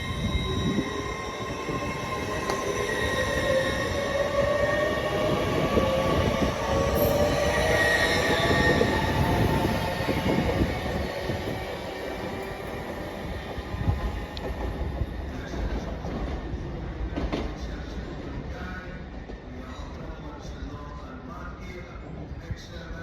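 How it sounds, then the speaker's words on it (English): A TransPennine Express train departs Haymarket station in Edinburgh, bound for Carlisle, with a loud continuous rumble of wheels and rising squealing tones that slowly fade as it pulls away. "Departing out now is the 1617 Trans-Pennine Express service from Edinburgh Waverley to Carlisle."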